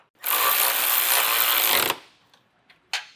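Power tool fastening bolts while installing Westin PRO TRAXX oval nerf bars on a 2024 Jeep, one loud, steady whirring burst of under two seconds, then brief clicks and a short final zip.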